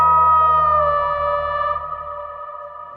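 Cinematic signature sound design in a Jurassic World style with particle layers added: a sustained, bright harmonic drone over a low subharmonic bed, slightly fuller and grainier, slowly fading across three seconds.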